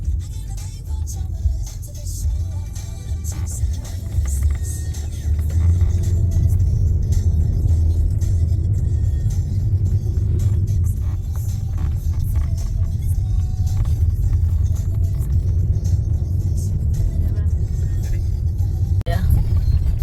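A Mitsubishi Eclipse Cross SUV climbs a steep, narrow, winding hill road on Sumatra's western highway. Its engine gives a loud, continuous low rumble and road roar throughout, rising slightly as the climb goes on.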